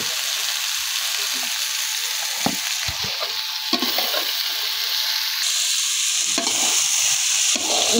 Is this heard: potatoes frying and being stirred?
yes